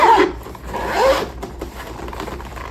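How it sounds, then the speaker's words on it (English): Zipper on the back zip pocket of a vintage bamboo-colored Coach Willis leather bag, pulled open in a few close, raspy strokes with a brief pause partway through. "And then it's got a back zip pocket here."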